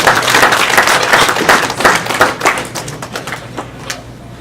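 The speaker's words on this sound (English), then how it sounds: "let's give him a big round of applause" Close, loud clapping at a Kumon celebration event, with distinct individual claps in uneven bursts that thin out and fade over a few seconds.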